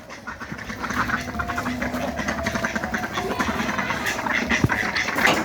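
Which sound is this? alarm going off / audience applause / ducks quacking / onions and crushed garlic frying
ducks quacking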